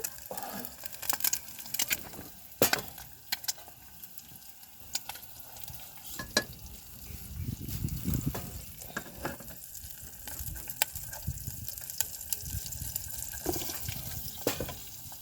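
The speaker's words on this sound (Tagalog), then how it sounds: "Kami po ay nagluluto ng piniritong itlog." Eggs frying in a pan at a mountain campsite: a steady crackling sizzle with scattered clinks and scrapes of stirring, fairly close and continuous, with no talking.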